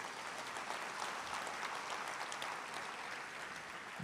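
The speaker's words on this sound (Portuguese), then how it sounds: "Você pode aplaudir a Jesus." A church congregation claps together, a dense and even spread of applause that holds for several seconds, heard faintly from a distance.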